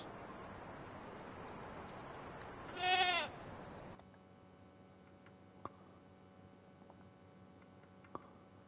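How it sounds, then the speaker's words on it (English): A goat gives one brief, loud bleat in the medieval farming game Medieval Dynasty, followed by quiet ambient game sound with a couple of faint clicks and no voices. "I'm going to buy some goats"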